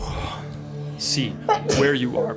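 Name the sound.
sneeze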